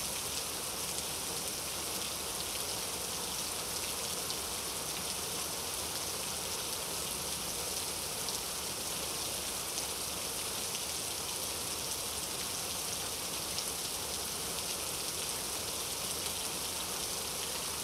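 Continuous heavy monsoon rain pours down in a dense, unbroken hiss of drops striking surfaces, steady and loud throughout with no voices.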